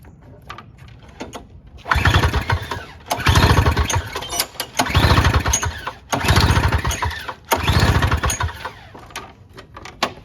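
Snowblower engine with choke and primer being pulled repeatedly, five rough sputtering bursts that each fail to catch and die away, with short pauses between attempts.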